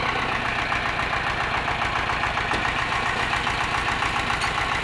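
A tractor engine runs while tilling up a garden, a loud, close, steady mechanical drone with a fast, even knocking pulse and no voices.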